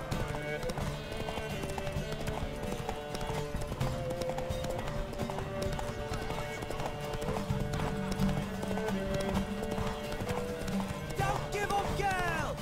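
Galloping horse hooves clip-clop in a fast, steady rhythm throughout The Witcher 3: Wild Hunt, set against music and occasional voices.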